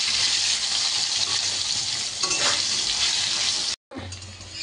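Salted potatoes frying in a pan, a loud continuous sizzle and crackle with stirring noises mixed in, cut off by a brief silence near the end before the sizzling picks up again.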